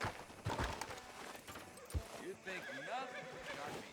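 Horse whinnying and hoof clip-clops in the video game Red Dead Redemption 2, a town street outside a sheriff's office; two sharp hoof thumps are followed by a loud rising whinny, with speech-like sounds mixed in.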